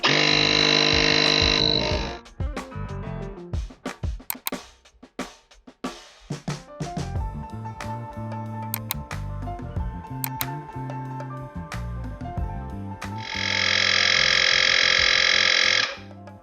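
A handheld battery-powered tire inflator pumps up a motorcycle tire, its harsh buzzing motor running loud and close at the start, giving way to clicks and rattling handling, then droning again near the end.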